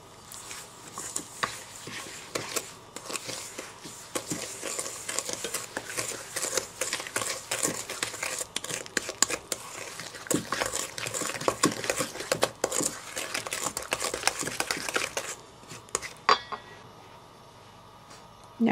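Parsnips, sugar and cinnamon are stirred together in a mixing bowl, giving close, steady clinks and soft scraping taps of a utensil against the bowl that stop near the end; nobody speaks.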